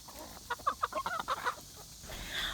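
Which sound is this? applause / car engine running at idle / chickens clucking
chickens clucking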